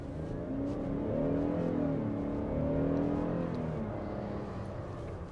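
A 2022 Buick Enclave SUV in all-wheel drive mode accelerates at full throttle, the engine droning and rising in pitch as it pulls, heard from inside the cabin with no talking.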